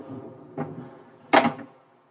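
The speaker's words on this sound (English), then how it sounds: "now we have a sliding door" A sliding bifold bathroom door in a Winnebago Vita RV makes a soft knock followed by a sharper clack as it folds shut, two brief close sounds in a quiet room.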